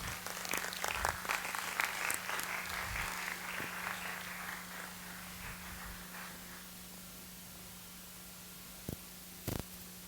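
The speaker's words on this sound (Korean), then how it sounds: "우리 전홍재 목사님을 한번 박수로 맞겠습니다." Audience applause greeting a church pastor as he comes on stage at a presentation event, loud and dense for several seconds, then thinning out and fading, with a few isolated claps near the end.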